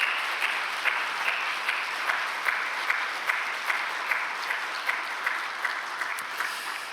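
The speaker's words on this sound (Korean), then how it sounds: "우리 한 해 동안 우리 수고한 카리스 성가대 한번 박수하며 격려하겠습니다" A church congregation claps for its choir in steady, even applause with rhythmic pulses running throughout, filling the sanctuary at a moderate level with no talking.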